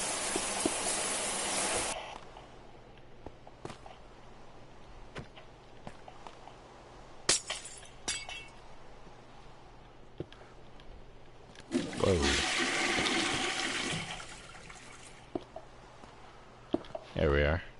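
Shower water running in Minecraft, bursts of rushing spray at the start and again later, with scattered clicks between and a person talking over it.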